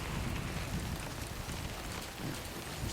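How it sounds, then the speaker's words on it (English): Rain falls steadily in Death Stranding, a broad, even hiss of drops that stays constant and fairly loud throughout with no talking. "So it's raining"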